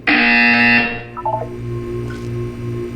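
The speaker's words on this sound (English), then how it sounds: "You will hear a buzzer." A loud electronic buzzer in the video game Portal 2 blares for about a second, then fades into quieter beeps and a low pulsing hum.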